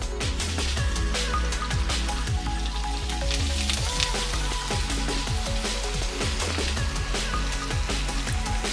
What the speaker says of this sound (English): Just frying the fish with some butter and lemon.